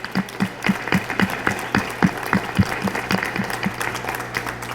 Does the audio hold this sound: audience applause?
yes